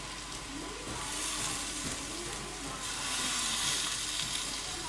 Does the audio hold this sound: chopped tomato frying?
yes